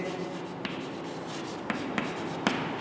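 Pen or marker writing a place value chart for a class 6 decimals maths lesson, soft continuous scratching strokes with a few sharp taps, close and fairly quiet, with no talk.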